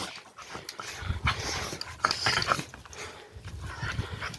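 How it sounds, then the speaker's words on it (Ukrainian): Dogs close by, panting, snuffling and moving about in short bursts with scrabbling and rattling noises, no talking. "Ой, песики, ой, хороші, ой, хороші."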